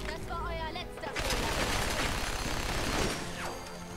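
Gunfire in the video game Fallout 4, during a robot race: a dense, sustained burst of rapid shots and impacts lasting several seconds, loud and steady, with quieter game sounds before it.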